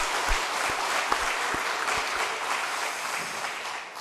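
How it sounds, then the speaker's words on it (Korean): Church congregation applauding during a pastors' seminar, sustained clapping from a full room with a few sharp low thumps standing out near the start. "박수 한번 하겠습니다."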